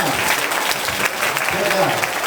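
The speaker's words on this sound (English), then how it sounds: "You go ahead and take your seat to this thunderous applause" Audience applause fills a magic show as a volunteer returns to their seat, steady close clapping throughout with voices audible over it.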